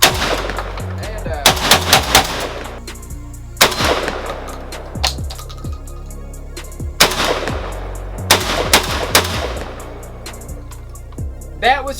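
A JTS AK12 semi-automatic shotgun fires light loads in loud, close shots, some in quick pairs and short strings, separated by brief pauses.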